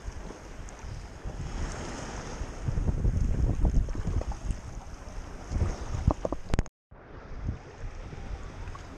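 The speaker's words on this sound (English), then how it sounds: "The breeze is picking up, the waves are picking up a little bit." Steady wind buffeting the microphone over the wash and slap of waves on a small boat as the breeze picks up, with loud gusts and water splashes before a brief dropout.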